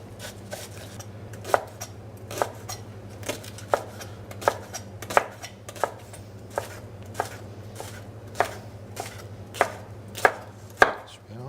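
A knife slices a leek on a cutting board, steady rhythmic chops about once a second, crisp and close, with a low steady hum underneath.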